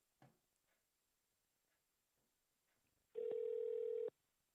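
A telephone line rings once on a call to a guest during a live sports stream, a steady electronic burst of about a second, loud and clean after faint clicks and near silence.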